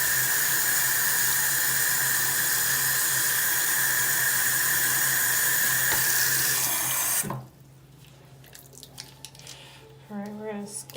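Running tap water pours steadily over makeup brushes being rinsed and swirled, a loud close gush that cuts off abruptly, leaving faint dripping and handling noises.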